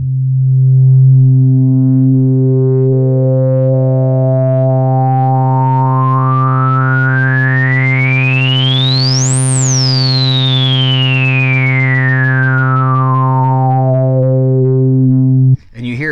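Buzzy synthesizer drone from a Waldorf Iridium through a dirty 12 dB low-pass filter sweeping slowly up to a sharp, resonant peak and back down, gritty and distorted, loud and continuous.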